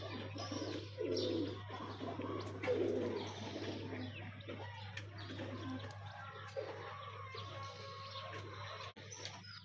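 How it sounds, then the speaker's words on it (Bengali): Pigeons wandering around after feeding give soft, throaty coos, with two fuller bursts early on and quieter murmuring that continues near the microphone over a steady low hum. "কবুতর সবারই খাওয়া শেষ হয়ে গেছে, এখন সবাই ঘোরাঘুরি করতেছে।"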